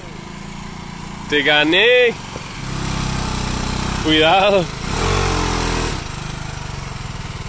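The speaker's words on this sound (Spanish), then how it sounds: "esta moto se llama BMW F900R" A BMW F900R motorcycle engine revs in two rising bursts while riding, with a steadier engine drone between and after them, loud and close, as people shout briefly over it.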